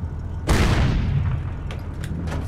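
A heavy gunshot boom from a video game firefight in Project Reality, fired at a wall, with a long rumbling tail followed by a few faint distant cracks.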